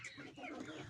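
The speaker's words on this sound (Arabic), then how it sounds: "ده الديك الكبير اللي عندي اهو اللهم بارك." A large free-range rooster clucks softly and close by in a short burst of low, throaty sounds.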